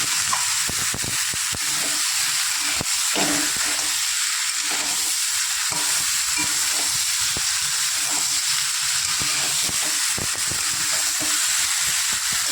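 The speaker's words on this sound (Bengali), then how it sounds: "ভালো করে আর কিছুক্ষণ কষিয়ে জল দিয়ে দেবো" Rohu fish with potato and flat beans fries in a pan with chillies, a constant loud sizzle and hiss up close, with rhythmic scraping pulses as the mixture is stirred.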